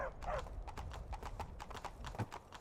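A horse in Skyrim, running with a horse animation mod, trots with quick, evenly spaced clip-clop hoofbeats, light and fairly faint, with no talking.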